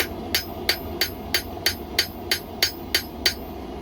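A hammer strikes hot steel at the forge while knife bevels are shaped, ringing out in about a dozen steady, evenly spaced metallic blows, close and clear with no talk.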